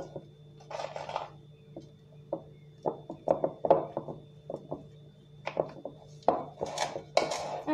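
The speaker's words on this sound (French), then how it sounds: "Nous allons mélanger le tout avec une cuillère." A spoon mixes ghribia dough ingredients with peanuts and vanilla in a bowl, making close, irregular knocks, clinks and soft scrapes in uneven bursts over a low steady hum.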